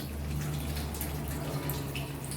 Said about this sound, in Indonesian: Setelah itu kita basuh tangan dengan air mengalir.